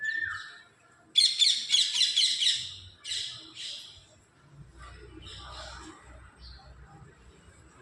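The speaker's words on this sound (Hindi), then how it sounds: "इधर देखिए, एक पैरट है जो घोंसला बना रहा है अंडे देने के लिए।" Parrots building a nest give bright, close chirps and rapid twittering calls, loudest in one burst near the start, then softer intermittent tweets over low rustling.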